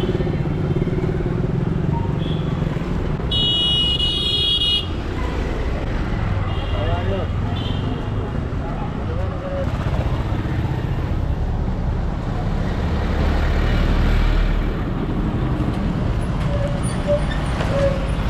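Dense street traffic on a busy Mumbai road, motorbikes and buses rumbling and revving continuously close by, with a brief horn blast and scattered clatter under occasional talk.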